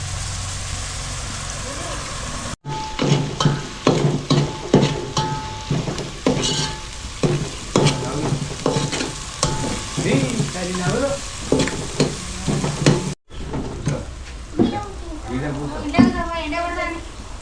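Onions frying and being stirred in a pan for a goat-tripe fry, steady sizzle with repeated stirring scrapes throughout, while people talk over it.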